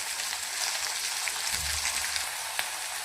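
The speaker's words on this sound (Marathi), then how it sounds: "म्हणजे कांदा पटकन फ्राय होतो।" Onion frying in oil in a pan while making peas pulao, a steady close sizzle and crackle throughout with a brief low clunk midway as something is stirred or added.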